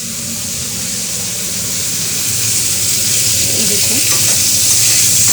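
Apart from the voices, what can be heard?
potato and cauliflower curry cooking in a pan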